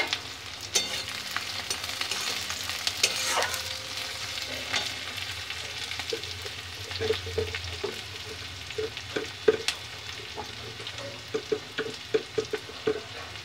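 Chopped onions sizzle steadily in a pan for a spicy mourola fish curry, with recurring sharp scrapes and clicks of a spoon stirring throughout, close and fairly quiet.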